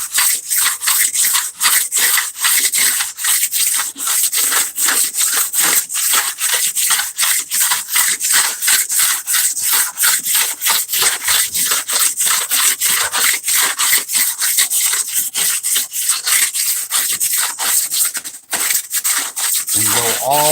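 A body file is drawn across car body filler in long, even rasping strokes, loud and close, repeating steadily without pause for about twenty seconds.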